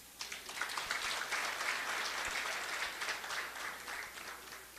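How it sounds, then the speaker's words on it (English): A room of people at an evening Marketing Africa Night event applauds a speaker, with dense, sustained clapping from a crowd that stays steady for several seconds without talk. "Let's clap for him."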